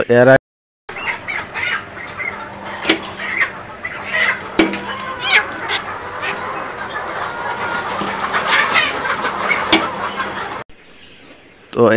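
Hens cluck and call close by through most of the clip while their beaks are trimmed by machine on a poultry farm, a busy overlapping flock chorus with brief quiet at the start and end.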